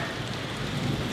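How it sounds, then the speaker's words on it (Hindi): Rain in Bangalore makes a steady, dense hiss of drops on surfaces, close and constant throughout, with no voices. "बारिश शुरू हो गई, देखो थोड़े थोड़े ही गिर रहे"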